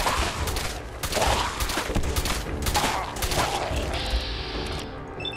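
Gunfire in the video game Fallout 4, rapid bursts of shots and clattering impacts in quick succession, loud and close, ending with a short mechanical tone.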